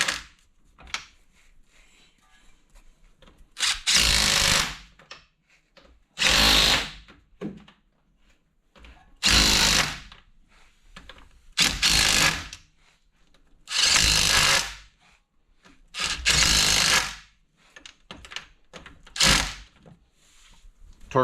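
A power tool snugs down the CV axle bolts on a 2007–2013 Silverado truck in about eight loud, close bursts of a second or so each, separated by quiet pauses with faint handling clatter.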